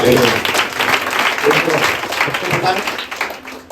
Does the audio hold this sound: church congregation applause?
yes